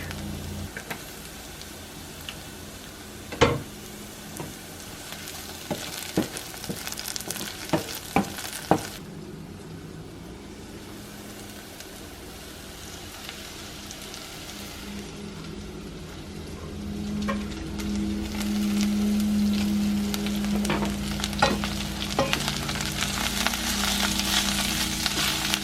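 Spinach, onion and garlic sautéing in a pan, a soft steady sizzle broken by several sharp utensil clicks and stirring scrapes, with the frying growing fuller and louder toward the end.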